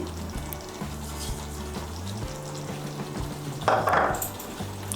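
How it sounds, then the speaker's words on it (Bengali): Pointed gourd curry being stirred in a pan after chopped coriander is added, with a steady sizzle and repeated scraping and clinking of a spoon against the pan, close and moderately loud. "ধনেপাতা কুচিটা ভালো করে মিশিয়ে নিলেই তৈরি"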